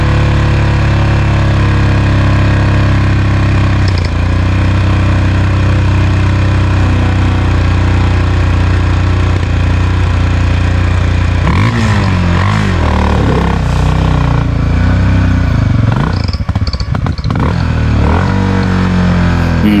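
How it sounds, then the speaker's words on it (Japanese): A Honda XR600 motorcycle engine idles roughly and unsteadily off-road, a loud, close, continuous thrum that wavers and dips partway through with some mechanical clatter. "もうこの辺からアイドリングが安定しないんですよね。"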